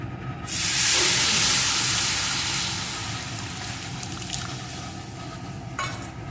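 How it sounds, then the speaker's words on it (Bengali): Milk pours into hot fried semolina in a pan and sets off a loud, bright burst of sizzling hiss that swells quickly, then eases into a softer steady sizzle with a few faint clinks. "হাফ কাপ সুজিতে এক কাপ দুধ দিয়ে দিচ্ছি"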